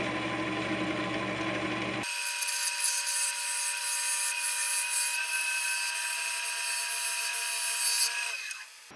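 A turning tool makes a final pass over a chestnut oak dish on a lathe, giving a steady, close, hissing scrape that holds evenly for several seconds and then stops.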